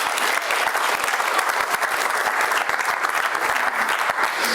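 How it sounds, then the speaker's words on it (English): An audience gives a live magic parlour act a dense, sustained round of clapping that stays close and loud throughout, with no one talking over it. "Give her a big round of applause."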